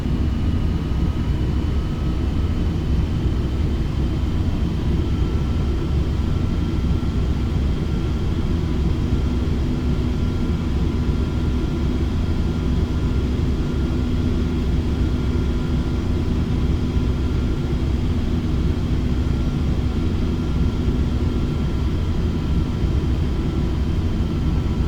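Aircraft engine thrust in a flight simulator game, on a Manchester to Edinburgh flight, holds as a steady, unbroken low drone with a faint high whine throughout, with no talk over it.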